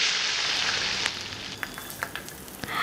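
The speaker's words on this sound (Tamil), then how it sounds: "ஒரு கடாயில் எண்ணெய் ஊற்றி கொஞ்சமாக கடுகு போட்டு சின்ன வெங்காயம் போட்டு நல்லா சாட்டே ஆகட்டும்" Shallots and mustard seeds sauté in hot oil in a kadai for a drumstick flower poriyal, giving a steady close sizzle that picks up scattered sharp pops and crackles in the second half.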